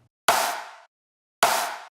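Two isolated hits of a clap sample from a dance track drop, each a crisp, bright smack that fades over about half a second, separated by clean silence.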